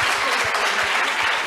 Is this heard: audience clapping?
yes